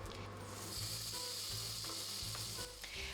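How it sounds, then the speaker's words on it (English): Beef ribs searing in a little hot oil in a pot, frying over medium-high heat, make a loud, steady sizzle with scraping and clunking from the pot during turning. "Pan fry the beef in medium-high heat and make sure you get a crispy crust."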